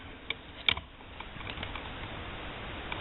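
Electrical wire ends are snipped off with cutters: a couple of small, sharp clicks near the start, quiet and close, followed by faint handling noise against a soft background hiss.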